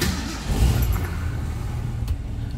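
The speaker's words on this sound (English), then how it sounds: "See how easily the car starts." A 1969 Ford Torino GT Fastback engine firing up and settling into a deep, steady rumbling idle, close and moderately loud with no talk over it.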